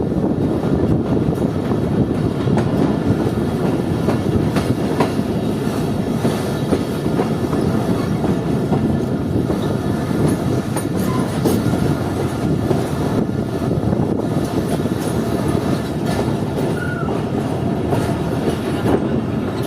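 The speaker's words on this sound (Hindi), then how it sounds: "ट्रेन हमारी डाउन लाइन पर जा रही है।" A passenger train rolls along the down line at Chaman railway station, a long, steady rumble of wheels with rhythmic clickety-clack and faint squeals, loud and continuous throughout.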